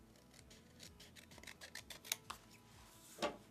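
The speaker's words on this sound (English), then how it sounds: "we're just gonna take the blue one and cut out the stars" Scissors cut stars out of blue paper close at hand: a run of quick, crisp snips and paper rustles, growing busier midway, with one sharper snip near the end, and no talk over them.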